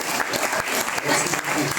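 A church congregation at a Methodist harvest festival in Allékédon claps together in steady, dense applause that fills the whole moment, close and continuous, with a few voices faintly mixed in.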